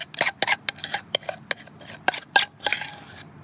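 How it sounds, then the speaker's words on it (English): Indigo powder worked into a henna paste, heard as quick, rhythmic scraping and clicking strokes of mixing, close and fairly loud with no talk. "All the indigo right into the henna mixture and mix it really well."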